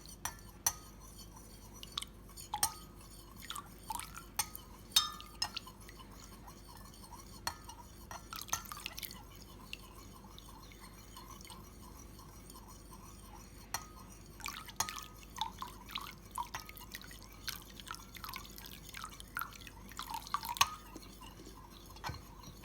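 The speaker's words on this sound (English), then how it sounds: "So onto the gum turpentine. Same sort of deal, just a bit at a time." Gum turpentine is added a little at a time to a beeswax mixture for homemade leather waterproofing and polish, giving soft intermittent drips and small liquid clicks close by, alone without talk.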